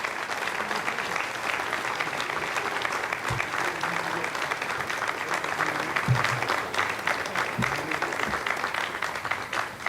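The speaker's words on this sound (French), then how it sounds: "Vous avez entendu les applaudissements" Applause breaks out in the launch control room as the GSAT 15 satellite separates during an Arianespace flight, dense sustained clapping from a roomful of people with a few louder close claps and faint voices beneath.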